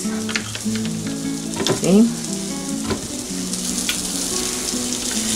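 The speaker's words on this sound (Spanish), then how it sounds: "en lo que se va friendo nuestro arroz" Rice for arroz con pollo frying in a pan, a steady close sizzle with a few stirring scrapes, under a brief spoken word.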